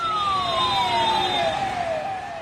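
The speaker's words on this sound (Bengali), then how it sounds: "জরুরি মুহূর্তে অসুস্থ রোগীকে হাসপাতালে পৌঁছাতে যার ভূমিকা সবচেয়ে বেশি সেটি হলো অ্যাম্বুলেন্স।" An ambulance siren wails loud and steady, a sustained tone gliding slowly downward in pitch with traffic hum beneath it.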